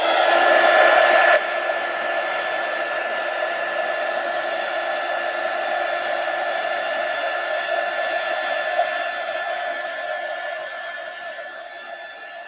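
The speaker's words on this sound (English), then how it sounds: "So I'm going to dry this egg with my heat gun." A heat gun dries a freshly painted Easter egg with a steady, loud blowing hiss. It is strongest in the first second, then runs at a slightly lower, even level to the end.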